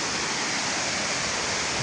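A man-made waterfall at Samandar Katha roars as a loud, dense, unbroken rush of falling water, close by, with no voices.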